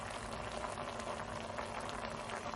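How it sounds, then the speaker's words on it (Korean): Thick braising sauce for pork ribs bubbles and boils steadily, a dense crackling simmer with many small pops, close and continuous. "지금은 잠시 보글보글 끓는 소리 ASMR을 듣는 시간을 가져보도록 하겠습니다."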